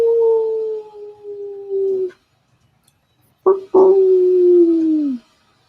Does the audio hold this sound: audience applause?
no